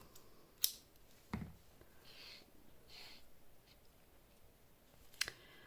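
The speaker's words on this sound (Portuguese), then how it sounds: "Vou cortar." Scissors snipping through yarn for a Minnie Mouse amigurumi, giving a few brief faint clicks and cuts in a quiet room, no talk.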